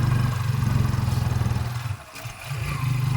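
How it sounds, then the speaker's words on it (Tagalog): An old, worn-out motorcycle labouring up a rural hill climb in the Philippine countryside, its engine pulsing loudly and steadily in a low rough chug that dips briefly before resuming, with no talk. "Hirapan yung motor ni Master."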